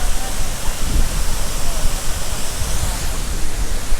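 A forest waterfall in Pisgah or the Great Smoky Mountains pours with a loud, dense, continuous roar of rushing water throwing off wind and mist, steady and close.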